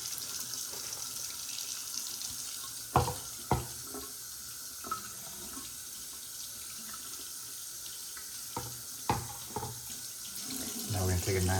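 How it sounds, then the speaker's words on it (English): A tap runs steadily into a sink while a dirty shower head is rinsed and leftover cleaning solution of baking soda and vinegar is poured out, with a few sharp clunks and splashes over the constant flow. "I'm going to pour out the leftovers here with water running."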